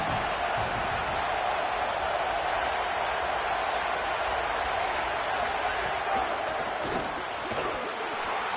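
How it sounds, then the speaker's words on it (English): A dense, constant roar comes from a football stadium crowd in an NCAA college football video game on third down. It stays even and loud throughout, with faint voices mixed in. "The Buckeye crowd alive on third down."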